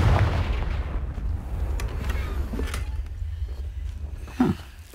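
Confringo blasting spell explosion in Hogwarts Legacy, a low rumbling boom that rolls through most of the clip with a sharper burst near the end, moderately loud and not voiced over.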